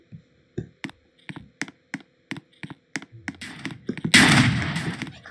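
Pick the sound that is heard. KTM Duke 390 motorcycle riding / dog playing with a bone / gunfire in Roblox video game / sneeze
gunfire in Roblox video game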